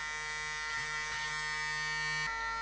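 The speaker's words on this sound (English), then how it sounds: "I won't trouble you with sitting there and watching a shaver motor go around" A Braun Series 3 340 electric shaver runs with a steady, close motor buzz. The pitch dips briefly and then shifts near the end, with no voices.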